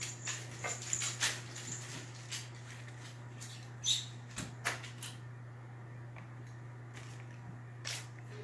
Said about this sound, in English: these dogs are crazy tonight